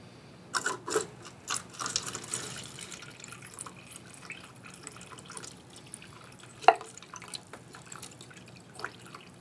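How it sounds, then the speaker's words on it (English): Water dripping and trickling through a plastic plant tub onto a wabi kusa moss ball, heard as scattered irregular taps and splashes close by, with one sharper drop standing out. "I'll use the tub that some of the plants came in to diffuse the water and see if that works."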